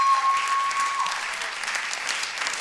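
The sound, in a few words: audience applause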